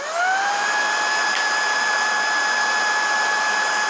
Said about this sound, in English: I wouldn't say exactly this is the noisiest vacuum I've heard